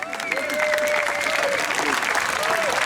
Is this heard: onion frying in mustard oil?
no